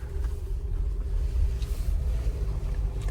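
A Jeep Wrangler JL 4xe engine starting up in hybrid mode, a low steady rumble with faint road and wind noise, no talking over it.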